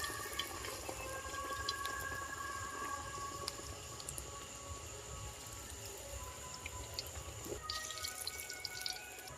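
Batter-coated pumpkin slices fry in hot oil with a dense, steady sizzle and crackle. Small pops and spits run through it throughout, and no one talks.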